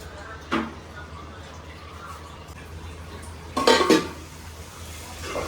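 A lid clatters onto a pot of gongura curry on the stove, a short metallic clank with a few rattling knocks, near and fairly loud, followed by a faint tap amid quiet kitchen background.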